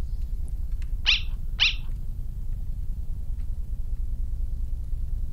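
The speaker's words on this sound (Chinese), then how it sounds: "狗。" Two short, sharp barks from a dog in the video game Undertale, about half a second apart, rise above a low, steady background rumble.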